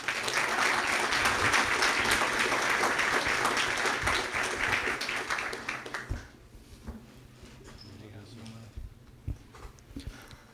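An audience applauds warmly at an evening testimony gathering, a dense burst of clapping lasting several seconds before fading into scattered claps and quiet room noise.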